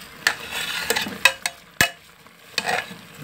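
Stirring a pan of seasoned oxtail with chopped green onions, with a few sharp scraping and clinking strokes of a utensil against the pan over a soft sizzle, close and fairly quiet, no voices.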